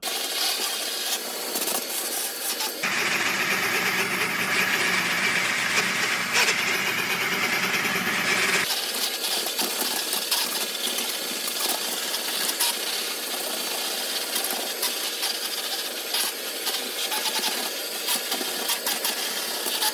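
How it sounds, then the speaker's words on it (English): A loud, steady Bissell SpotClean Pro vacuum motor whines continuously, its tone shifting heavier for a few seconds as the nozzle presses against a car floor mat, then settling back. "so I'm gonna vacuum this one first"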